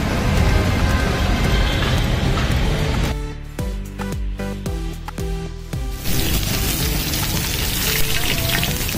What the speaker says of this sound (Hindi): ये प्याज डाला है, ये तड़का लगा रहे हो?